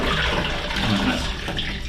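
Water swishes and sloshes inside a caravan cassette toilet tank, a close, continuous gurgling rush with no pauses.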